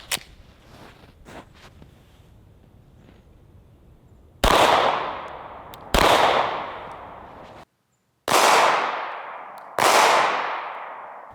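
A 9mm Glock 19 fires into soft body armor at an outdoor range. Four loud, sharp gunshots ring out about one to two seconds apart, each with a ringing decay, after quieter handling noises and faint clicks.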